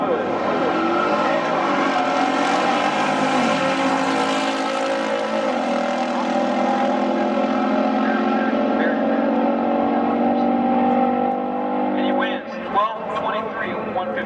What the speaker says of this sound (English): Ryan, Ryan is driving the 446 pack. pack. Dodge Challenger.